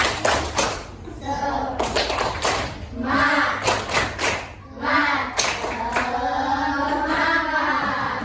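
A primary school class claps a short rhythmic pattern together, sharp bursts of hand claps in quick sequences, with voices chanting and talking in Indonesian between the bursts.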